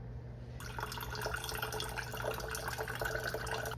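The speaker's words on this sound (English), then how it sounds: "We'll add the water in now." Water pours in a steady trickling stream into a jar of sourdough starter on a kitchen scale, close and continuous for several seconds, with no talking.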